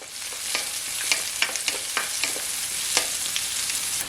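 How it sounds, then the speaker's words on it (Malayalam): Chopped onion, ginger and garlic sauté in an oiled pan, a steady soft sizzle broken by irregular scraping stirs, close and fairly quiet with no talking. "ഇനി നമ്മൾ അരിഞ്ഞു വെച്ചിരിക്കുന്ന സവോള, ഇഞ്ചി, വെളുത്തുള്ളി ഇത്രയും ഇടാം"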